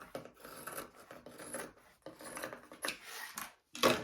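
Scissors trimming fabric off the bottom of a crossbody bag, a string of close, uneven snipping and rasping cuts with short pauses, ending in a sharper final crunch.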